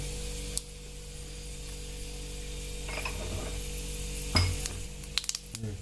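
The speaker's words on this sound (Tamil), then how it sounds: "கடுகு நல்லா பொரிஞ்சிச்சு" Mustard seeds and urad dal fry in hot oil for a drumstick leaf soup, a quiet steady sizzle with a few sharp pops and crackles near the end and a faint background hum.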